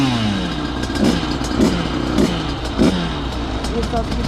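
A small motorcycle engine drones and revs, with rhythmic mechanical pulses roughly every half second and a voice talking over it.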